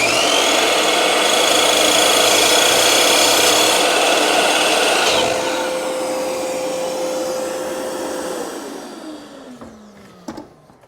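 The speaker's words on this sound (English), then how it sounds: "So let's turn on the extractor." A dust extractor hooked up to a 10-inch mitre saw runs with a loud, steady whining drone, then drops in pitch and spins down toward the end with a couple of clunks.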